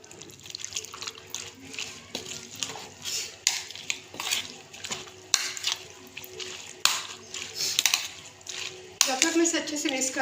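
A spoon clatters and scrapes against a bowl while yogurt raita with mixed vegetables is stirred, irregular clinks and taps at moderate level, with a faint voice in the background.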